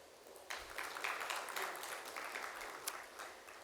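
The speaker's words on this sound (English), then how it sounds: "Can we please have a huge round of applause for our sponsors?" An audience at an IT summit applauds event sponsors, a rise of scattered clapping that swells after a quiet start and stays fairly soft and distant.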